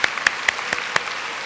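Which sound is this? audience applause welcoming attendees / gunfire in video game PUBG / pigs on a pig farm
audience applause welcoming attendees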